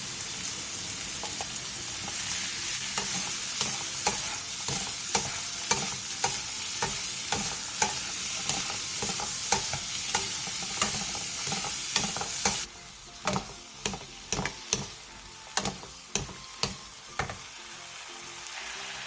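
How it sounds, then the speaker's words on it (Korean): Zucchini stir-frying in oil with minced garlic and salt over medium heat, a constant close sizzle broken by regular scraping clacks of a spatula against the pan that grow sharper toward the end. "팬에 기름을 두른 뒤 호박, 다진 마늘 1스푼, 소금 1티스푼을 넣고 중불에서 볶아주세요"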